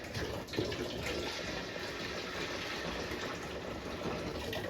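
Water pouring steadily out of a pressure canner while making homemade apple sauce, a continuous close splashing rush that runs the whole time with no talk.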